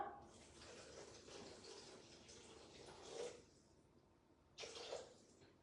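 Water is poured into a Thermomix TM6 bowl for lasagna, a soft steady splashing stream that pauses briefly and then resumes, fairly quiet, with no talk.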